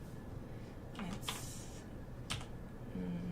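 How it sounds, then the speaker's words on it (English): Short bursts of typing on a computer keyboard while entering a date into an Excel spreadsheet, a few quick key clusters set apart by pauses, close and fairly quiet over a steady background hum. "You just type the date and that's it."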